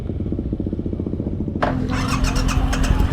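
Motorcycles ride through town during a Bikes and Breakfast gathering: a steady pulsing engine idle and low rumble, then a louder, nearer bike rolls past with a rising, busier engine note.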